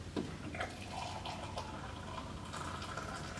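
Hot water from a tap runs into a cup for sachet coffee, a soft continuous trickle with a few faint clinks and drips, close and quiet.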